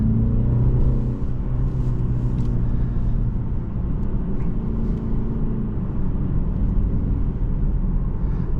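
A 2025 BMW 330i xDrive with a turbocharged four-cylinder engine pulls hard out of a corner, its steady engine drone and road rumble heard from inside the cabin, loud and continuous throughout.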